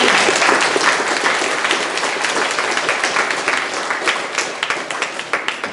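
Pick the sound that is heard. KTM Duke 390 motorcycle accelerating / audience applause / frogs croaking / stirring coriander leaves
audience applause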